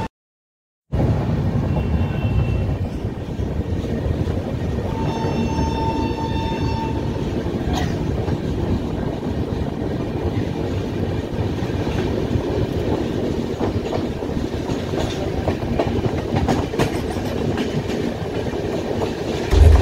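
Heard from on board the Jhasidih Express, train 22305, a continuous loud rumble of wheels and carriage fills the whole stretch. Faint rhythmic clatter and a brief high tonal whine sit over the steady roar.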